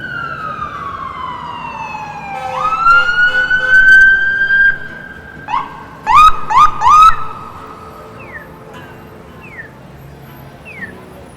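A siren wails and sweeps in pitch, then breaks into rapid yelping bursts before trailing off, loud and fairly close over traffic noise on Yonge Street in downtown Toronto.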